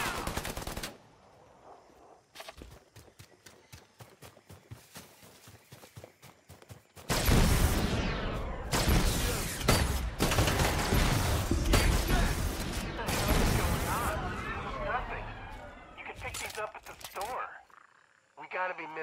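Rapid automatic gunfire from the video game Predator: Hunting Grounds comes in sharp, repeated bursts, with lighter shots early and then a loud, sustained barrage. Voices are heard amid the shooting.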